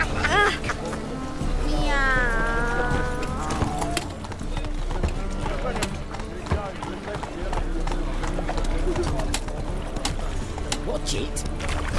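Hooves of the horse Roach clop steadily on ground in The Witcher 3, a continuous rhythmic gait under spoken dialogue and game sounds.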